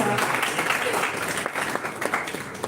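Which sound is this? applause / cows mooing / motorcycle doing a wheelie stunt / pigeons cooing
applause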